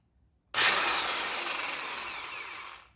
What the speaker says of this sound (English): Today I'm going to check my impact wrench